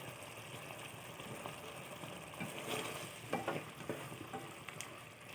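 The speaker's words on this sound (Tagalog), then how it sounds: "Pakuluan lang natin hanggang sa mag-thick siya guys." Garlic pepper beef sauce simmering in a pan until it thickens, a faint, steady bubbling sizzle with a few soft stirring clicks and no talk.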